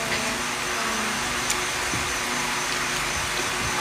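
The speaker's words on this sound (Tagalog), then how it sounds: "Electric fan po yan." An electric fan runs during a live stream amid stormy weather, giving a steady whooshing hum with faint clicks and thumps scattered through it.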